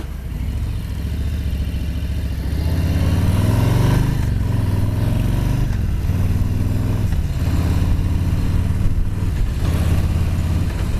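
A 2018 Harley-Davidson Street Bob 107 motorcycle ridden through town, its engine droning loudly and close with rising revs and several distinct gear changes, with no talking.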